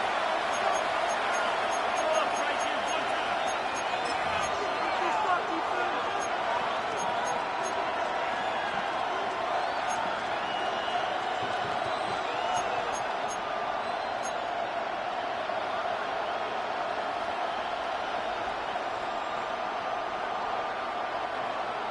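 Stadium crowd roar in an EA Sports NFL football video game, Panthers on the field, a steady, dense wash of cheering that holds throughout at a moderate distance.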